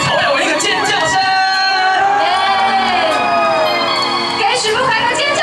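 Concert crowd at a temple anniversary celebration gala in Tainan screams and cheers loudly and continuously, high-pitched whoops and shrieks layered over dense crowd noise.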